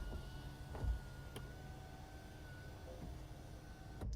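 The moonroof motor of a 2021 Toyota Corolla XSE hums faintly and steadily inside the quiet cabin, with a thin whine running for a few seconds and a soft click at the start and end.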